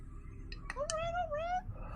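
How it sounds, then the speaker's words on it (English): A cat meows once in a room during a tabletop role-playing session, a short rising-and-falling yowl over low background murmur and voices. "Bobby, get that kitty."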